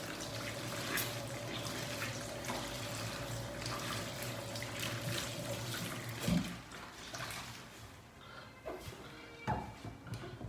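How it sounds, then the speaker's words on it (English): Tap water runs steadily while dishwashing utensils are rinsed at a sink, a continuous close splashing with occasional knocks and clinks of items being handled. "I'm going to wash my stuff that I used to do my dishes so that they always remain clean and smart and tidy."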